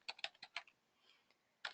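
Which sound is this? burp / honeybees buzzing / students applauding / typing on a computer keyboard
typing on a computer keyboard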